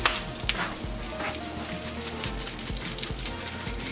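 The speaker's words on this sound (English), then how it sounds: "I'm going to get rosemary and just put some in the pan." Dried rosemary sizzling as it fries in a pan for a creamy garlic mushroom pasta, a steady close crackle and hiss with faint stirring scrapes, continuous and alone without talk.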